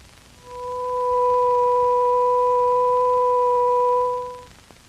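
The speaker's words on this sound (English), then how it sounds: "To this fundamental, we will now add the second harmonic." A pure steady 500 Hz tone joined by its second harmonic an octave above, swelling in smoothly, holding level for a few seconds, then fading out.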